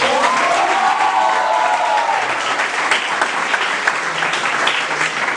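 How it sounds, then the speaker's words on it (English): Loud, sustained applause from a crowd fills the room, with a brief whistle-like tone early on, continuing evenly throughout. "Can we have a loud applause?"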